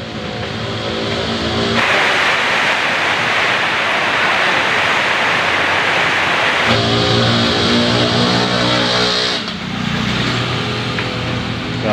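Strong typhoon wind and heavy rain from Typhoon Aghon roar continuously at close range as a loud, dense, steady rush with slight surges, and no one speaks over it.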